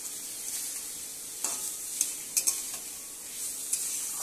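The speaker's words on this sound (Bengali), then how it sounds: "ভালোভাবে নেড়ে চেড়ে মিশিয়ে নেব।" Banana stem is stirred in a wok for a mustard dish. Quiet scraping strokes sound over a soft, low sizzle, with a handful of sharper clicks.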